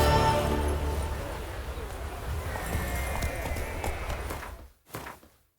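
Roach the horse in The Witcher 3 game, hooves clip-clopping fast at a gallop, close and fairly loud, thinning out and going quiet near the end with a last short burst.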